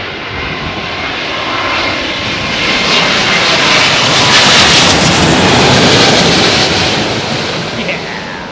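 A Rolls-Royce-powered airliner landing in strong crosswinds at Heathrow Airport produces a loud, broad jet-engine roar that swells toward the middle and slowly eases off, with wind rushing throughout.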